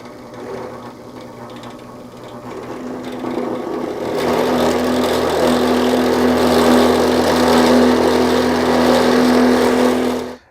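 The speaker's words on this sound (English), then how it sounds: "We're going to start up the drill press, so it might be a little noisy, and punch through this." A drill press motor hums quietly, then ramps up to a loud, steady grinding drone as the bit punches through metal, cutting off abruptly.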